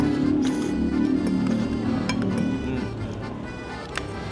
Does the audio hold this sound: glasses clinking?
yes